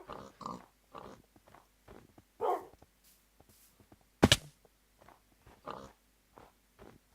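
Dogs in the video game Minecraft: a series of short, soft barks and yips repeating irregularly, fairly faint, with one sharp loud thunk partway through and no talk.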